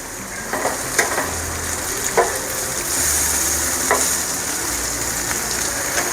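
Vegetarian fish fry, a mock fish made from vegetables, sizzling steadily in a hot pan, a loud close hiss with a few sharp scrapes and taps as pieces are flipped.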